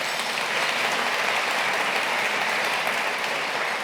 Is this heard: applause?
yes